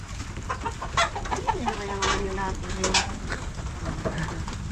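Chickens cluck and call close by, an egg-laying hen among them, with bursts of rhythmic clucking and a drawn-out tonal call over a busy, noisy yard while people talk at times.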